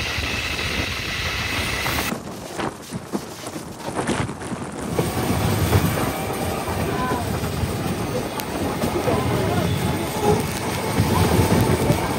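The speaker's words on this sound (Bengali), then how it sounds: "আগে যে ট্রেনটা এসছে, পরে সেই ট্রেনটা আগে চলে গেছে, আর আমাদের ট্রেন সবে ছাড়লো।" A passenger train on a single-track rural line pulls away and rolls on, a steady loud rumble with wind noise and rain, briefly muffled midway, while people talk nearby.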